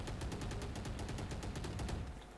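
Rapid automatic gunfire in the shooter game Valorant rattles off in a fast, even burst of about a dozen shots, loud and continuous for two seconds and then cutting off, with no speech.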